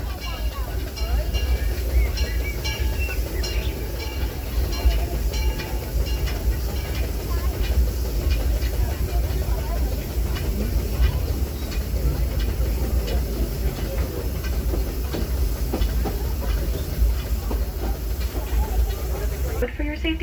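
A Disneyland Railroad train rolls along at steady speed, with a loud continuous rumble, rhythmic wheel clatter and hiss, and an onboard announcement voice running over it throughout.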